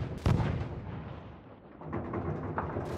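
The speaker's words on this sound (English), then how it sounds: "Check your fire. You're shooting at friendlies." Heavy gunfire and explosive booms from the video game Modern Warfare, one loud blast near the start followed by a dense, rumbling barrage of shots that continues steadily throughout.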